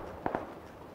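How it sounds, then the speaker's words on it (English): Two quick gunshots in the video game Ark crack in close succession, faint and distant, over a quiet steady background with no talking. "I hear gunshots east, 105"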